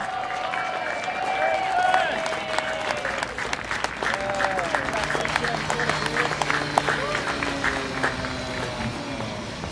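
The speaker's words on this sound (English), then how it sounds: "let's hear a round of applause for the graduating class of CTP" An audience at a student achievement celebration applauds the graduating class of a community transition program 2013, giving sustained dense clapping with scattered cheers and voices mixed in.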